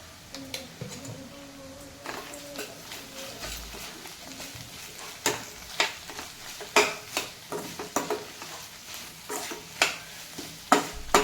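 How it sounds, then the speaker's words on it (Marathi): Half a spoon of sugar being stirred into bitter gourd curry cooking in a pan, with repeated close spoon scrapes and knocks against the metal over a soft continuous sizzle. "यामध्ये मी अर्धा चमचा साखर टाकून चांगल्या प्रकारे मिक्स करून घेणार आहे।"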